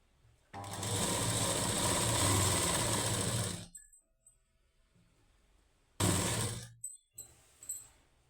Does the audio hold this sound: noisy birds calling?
no